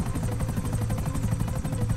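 A helicopter in the video game GTA 5 gives off a steady, close rotor drone with a rapid rhythmic chop. It carries on without a break and no one speaks over it.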